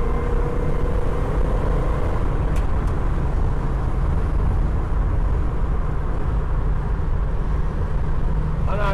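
A restored 1964½ Mustang 289 V-8 automatic convertible cruises southbound on the I-5 freeway with a steady, loud roar of engine, tires and wind that holds without a break, heard up close from inside the car.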